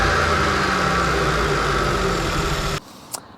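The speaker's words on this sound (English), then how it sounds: "So this is the Form 7 induction kit that I helped develop. I really love it. It makes noises," Seat Ibiza 6F engine fitted with a Form 7 induction kit, a loud steady idle drone with intake rumble that cuts off abruptly near the end, followed by a brief faint click.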